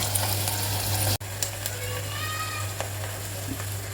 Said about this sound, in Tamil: நல்லா ஸ்டர் பண்ணுங்கள்